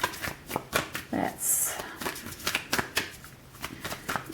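Oracle cards being shuffled by hand: close, crisp riffling and sliding in uneven bursts and taps, with no clear talk over them.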